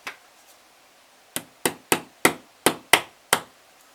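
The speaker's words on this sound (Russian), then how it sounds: "теперь она должна легким постукиванием молотка проходить" One sharp tap, a pause, then a quick run of seven light hammer taps on a timing chain part of an Audi A6 C6 FSI engine, crisp and close, with quiet between strikes.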